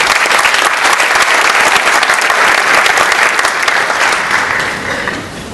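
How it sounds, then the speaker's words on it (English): Sustained applause from a conference audience at a welcome session, loud and dense throughout, easing off slightly toward the end with no talking over it. "Please give yourself a round of applause"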